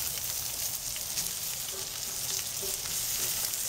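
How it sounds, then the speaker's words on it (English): Burger patties sizzle steadily on a hot cooking surface, a close, continuous crackle of frying fat with small pops throughout and no talking. "flip your burgers"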